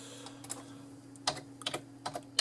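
Fingers tap on a computer keyboard during a game of Old School Runescape, producing a short irregular run of crisp keystroke clicks, some in quick pairs, over a faint steady hum.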